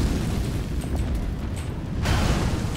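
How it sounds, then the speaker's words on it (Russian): An explosion goes off in Dark Souls 3, a low, rumbling blast that holds steady for a moment and then swells with a brighter burst near the end, with no talk over it. "Взрыв."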